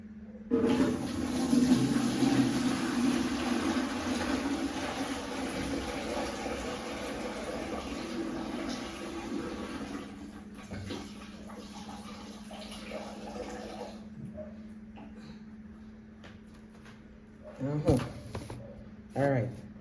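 Water pours and splashes steadily into a kitchen sink while cooking, a continuous rushing drain that runs loud for about fourteen seconds before cutting off, followed by a few quieter clinks and movements.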